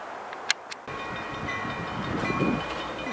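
An NYS&W freight locomotive hauling boxcars approaches on the Utica branch, a steady broadband rumble of engine and rolling wheels that holds level and grows slightly, with a couple of sharp clicks near the start.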